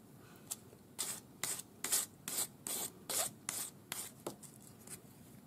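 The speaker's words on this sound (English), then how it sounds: "So just touch up the points with your sanding stick." A sanding stick rubs the points of a folded, hammered metal pendant, giving about ten short, close, scratchy strokes in a steady back-and-forth rhythm, with no talking.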